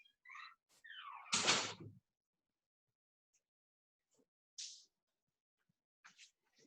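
A door is opened at home to answer a visitor, with one loud, sharp clunk after some soft scuffing. Near silence and a few faint small noises follow.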